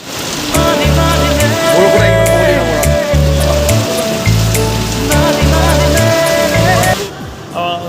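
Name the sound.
heavy rain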